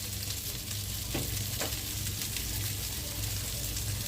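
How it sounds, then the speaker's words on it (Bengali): Moong dal dry roasting in a dry kadai, a continuous close frying hiss with a couple of brief stirring scrapes, no one speaking. "ভাজা মুগ ডাল"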